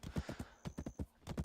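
Horse galloping in the online game Black Desert Online, quick rhythmic hoofbeats in bursts of three and four, quiet and close, with brief pauses between groups.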